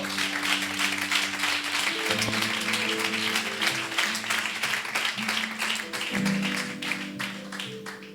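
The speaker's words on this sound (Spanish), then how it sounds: "Dale un aplauso a Dios." A church congregation applauds, with continuous dense clapping over sustained instrumental tones, a steady wash of hands slowly easing off near the end.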